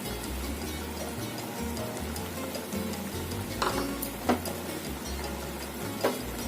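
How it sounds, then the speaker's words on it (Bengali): Fried fish pieces go into a simmering curry in a pan, giving a continuous bubbling sizzle with a low rumble. A few sharp clicks and clatters of utensils stand out near the middle and end. "ভাজা মাছগুলো ওপর থেকে দিয়ে দিলাম।"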